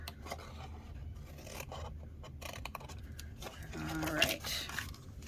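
Paper being cut for a Stampin' Up Valentine treat box, several short snips and scraping cuts close by, with a longer rasping cut near the end.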